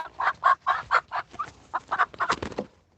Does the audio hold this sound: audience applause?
no